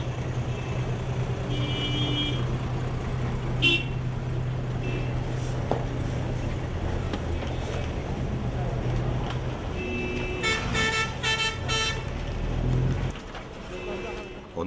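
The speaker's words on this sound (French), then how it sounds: "nous nous sommes trouvés pris dans une véritable noria de camions-citernes" Tanker trucks crowd a mountain village road, with engines rumbling and repeated horn honks, denser near the end, under a voice speaking.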